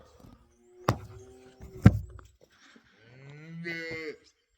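Cows mooing on a farm, two or three drawn-out bellowing calls with short pauses between them, fairly close and clear, with a faint thump or two in the background and no voices.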